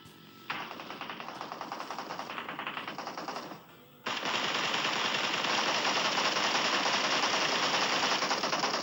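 Rapid automatic gunfire from a SCAR assault rifle in a video game rattles in a long burst, briefly dips, then resumes even louder and continuous until the end.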